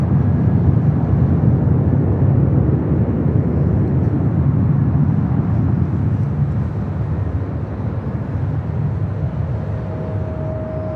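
A Singapore Airlines Boeing 777-300ER is pushing back from the terminal at LAX, heard as a broad steady engine rumble that eases slightly toward the end, with a faint thin tone entering late.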